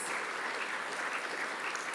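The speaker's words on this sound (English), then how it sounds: "Provost Linda Shadler, big round of applause." Steady applause from an audience, a dense continuous patter of clapping at moderate level with no voices over it.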